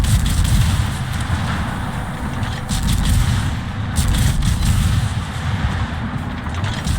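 Naval guns on warships in a video game fire in a continuous heavy rumble of booms, loud and dense, with occasional sharper cracks layered over the low roar.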